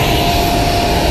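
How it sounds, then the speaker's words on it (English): Airplane jet engine roar, loud and close, a dense continuous broadband rumble and hiss that stays level from start to finish with no talking. "Getting on this plane."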